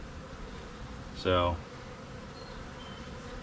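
A single honeybee buzzes briefly past, close by, over a steady outdoor background hiss; a voice speaks a word nearby.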